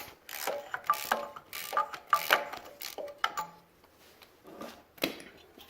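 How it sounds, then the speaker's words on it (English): Close, crisp ratchet clicks as the two bolts holding a bracket are loosened on a small-block Chevy drift truck engine, in several short, rhythmic runs with brief pauses between strokes. "there's 2 bolts holding on this big ugly bracket. So we're gonna go and take those off"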